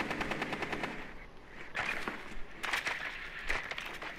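Rapid bursts of automatic gunfire from the video game Rainbow Six Siege crackle in several short volleys, one after another, with no talk over them.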